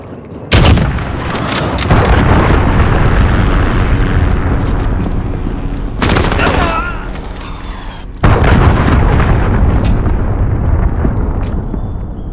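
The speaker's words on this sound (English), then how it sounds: "Allied cruise missile away." Loud, sustained rumbling blasts from cruise missile strikes in Call of Duty: Modern Warfare, with heavy booming explosions and crackling gunfire filling the whole stretch, broken by a few sharp impacts and brief dips.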